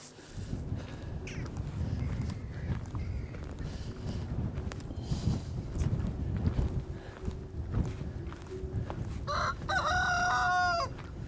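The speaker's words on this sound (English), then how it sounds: "goodbye, roosters, bantam roosters, goodbye" A bantam rooster crows near the end, a loud drawn-out call standing out over a rough background of farmyard noise and shuffling.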